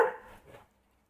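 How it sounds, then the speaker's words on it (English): A dog gives a single short bark up close, trailing off quickly into silence, with no voices in the moment. "No barking."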